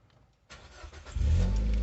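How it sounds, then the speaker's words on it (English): A Nissan Qashqai J10 engine cranks and catches, rising into a loud steady running rumble close by. "So we switch it on, switch the engine back on."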